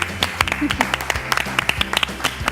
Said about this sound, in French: On applaudit Julie.